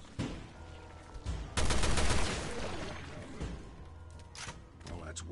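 Gunshots ring out in Resident Evil Revelations 2, with a sudden loud rapid burst in the middle, a few sharper reports scattered around it, and a voice speaking over parts of the clip.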